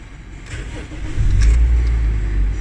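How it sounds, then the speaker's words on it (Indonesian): An automatic car engine is started in neutral: a short cranking burst leads into the engine catching and settling into a steady, close idle rumble, heard alone without talk. "Kita akan coba ya starting kendaraan pada posisi N atau netral."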